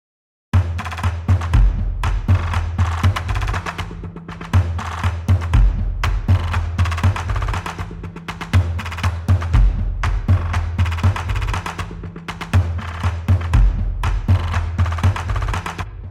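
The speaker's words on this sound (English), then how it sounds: "I have this thing layered, another loop from Drum Fury, and this one is the Safari AI." Layered Safari percussion loop from the Drum Fury Motion sample library, a steady, dense pattern of clicky hits over repeating deep bass thumps, loud and continuous with no speech.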